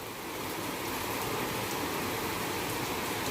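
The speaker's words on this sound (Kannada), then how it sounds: "ಸೊ ಕಡೆಗೂ ಒಂದೊಂದು ಹನಿ ಬೀಳಾಕತ್ತಿತ್ತು. ಈಗಂತೂ ಸಿಕ್ಕಾಪಟ್ಟಿ ಜೋರು ಆಗಾಕತ್ತೈತೆ ನೋಡ್ರಿ." Heavy rain pours down outdoors in a steady, loud, dense roar of falling water that fills the whole moment without a break or any voices.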